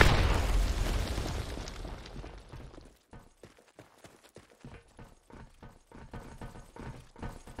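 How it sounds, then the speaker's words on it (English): A grenade in the shooter game Blackshot goes off with a deep, loud boom at the start that decays over a few seconds, followed by scattered pops and gunfire bursts. "Fire in the hole. Grenade."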